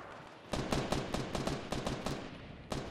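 Rapid pistol gunfire in the Fortnite battle royale video game, a quick run of sharp, close shots in uneven bursts after a brief quiet start.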